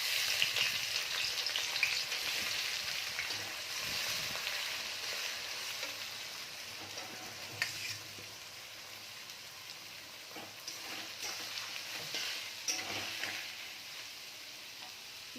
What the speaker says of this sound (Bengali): পেঁয়াজগুলো খুব ভালো করে আমি লাল করে ভেজে নেব।